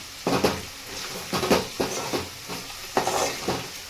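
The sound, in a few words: tomatoes cooking in hot oil in a pan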